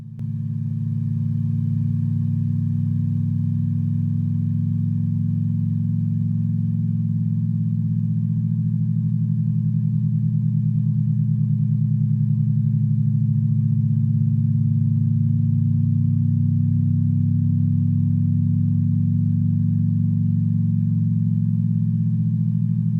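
Chrysler 300 engine fitted with a loud muffler, idling with a steady deep low rumble that holds at constant volume throughout, close and alone with no voices.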